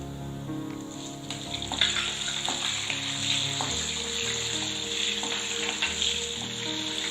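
Ginger, garlic and green chillies sauté in a pan for a chutney, a steady close sizzle with faint stirring and clinks running underneath, no voices.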